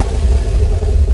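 A brand-new Ford Focus RS on an unused airport runway gives off a loud, steady, close engine roar that holds level through the short moment.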